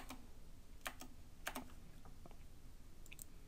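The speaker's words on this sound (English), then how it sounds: "So let me type in Terrorforge" Quiet, close keystrokes on a computer keyboard, a few sharp taps in small bursts with pauses between, over a faint steady background hum.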